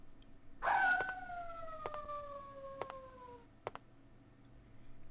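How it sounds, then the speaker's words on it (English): A stock video game howling sound effect in Mega Man Battle Network: a single long howl with a clear gliding tone that slowly descends, followed by a few sharp clicks in a quiet background. "That's stock howling noise."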